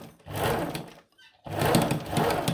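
Sewing machine stitching fabric in bursts close up, a steady whirring run, a short silent pause with faint handling, then a second longer run.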